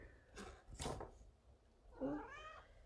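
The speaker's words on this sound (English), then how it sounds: "I got Kitty over here." A house cat meows and yowls quietly in a room, giving a couple of raspy cries followed by a longer, rising and falling drawn-out meow.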